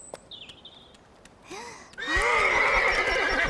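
A horse whinnies in a farmyard, a short call followed by a loud, sustained neigh that fills the last half of the clip with no talk over it.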